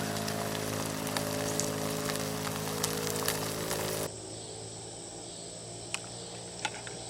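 Taco beef frying in a pan from a camp cook set, a steady close sizzle with a few sharp pops and crackles, dropping to a quieter sizzle partway through.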